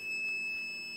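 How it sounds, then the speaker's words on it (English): A Fire-Lite MS-4 fire alarm panel sounds during a system test, giving a steady, continuous high-pitched electronic tone that holds without a break for the whole second, loud and close with no talking. "As you can see, zone 2 fire alarm."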